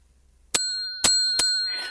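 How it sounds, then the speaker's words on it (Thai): A small bell rung three times in quick, separate strikes, each a bright metallic ding with a long ringing tail, loud and close, with no talk over it. "ขอกดกระดิ่งหน่อยได้ไหมคะ"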